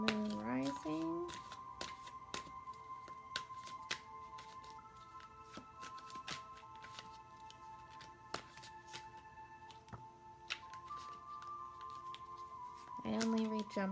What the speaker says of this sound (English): I only read jumpers, guys, so I shuffle for a little while.